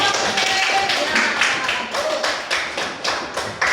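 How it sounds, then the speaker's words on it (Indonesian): Children clap their hands in a classroom, a loose group clapping with rhythmic bursts of slaps, close and fairly loud, with brief voices mixed in. "Kasih tepuk tangan"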